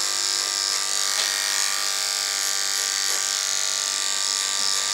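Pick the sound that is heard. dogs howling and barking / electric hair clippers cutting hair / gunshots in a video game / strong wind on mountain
electric hair clippers cutting hair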